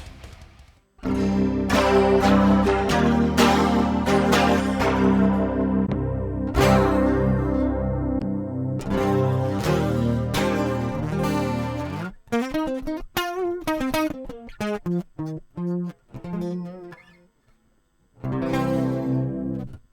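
Electric guitar chords and picked notes ring out through a Line 6 Helix chorus effect, shimmering and wavering, played up close with pauses between phrases.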